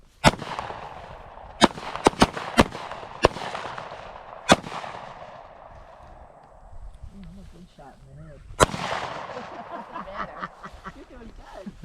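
Pistol shots ring out at a target range during a basic pistol course, several sharp cracks in quick succession followed by a lone shot, with voices talking in between.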